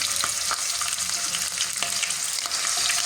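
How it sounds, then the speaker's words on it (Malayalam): Chicken pieces sizzle steadily in hot oil in a pan, a dense, continuous frying hiss with occasional faint pops and stirring clicks, close and fairly loud throughout. "കുറച്ച് ഓയിൽ ഒഴിച്ച് നന്നായി ചൂടായതിനു ശേഷം അതിലേക്ക് നമുക്ക് ചിക്കൻ ഇട്ട് കൊടുക്കാവേ"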